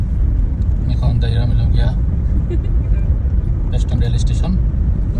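Riding inside a car gives a steady low rumble of road and engine noise that runs throughout, with someone talking over it.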